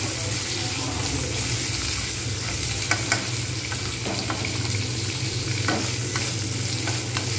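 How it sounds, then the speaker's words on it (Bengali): Potatoes fry in hot oil in a kadai, giving a loud, steady sizzle throughout with scattered scraping and stirring knocks from a utensil. "কড়াতে তেল রয়েছে, এই তেলের মধ্যে আমি কিন্তু আলুগুলো সব কটা দিয়ে দেবো।"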